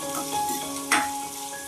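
Curry leaves, asafoetida and chopped chilli sizzle in hot oil in a pan for a dahi kadhi tempering, a steady close frying hiss with one brief sharp burst partway through.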